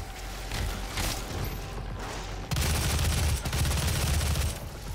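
Weapon fire from a Tesla rocket in the DOOM video game, a continuous dense crackling barrage that jumps louder halfway through and stays heavy to the end, with no talk.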